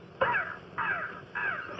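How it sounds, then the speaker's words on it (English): A crow caws three times at a steady, even pace, each call harsh and slightly drawn out, moderately close and alone against quiet outdoor air. "Yeah, it's only a crow."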